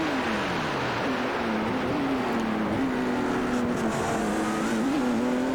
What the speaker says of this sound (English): Almost sounded like Ollie was cutting the engine there to brake.